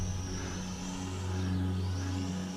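The motors of a DM95 Visitor toy drone run at full throttle, giving a steady buzzing whir with a low hum that rises and dips slightly as the craft porpoises.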